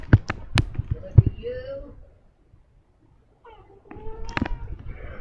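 Three-week-old kittens meowing in a few short high cries near the start and end, mixed with soft thumps and handling noises, with a quiet pause in the middle and no clear purr.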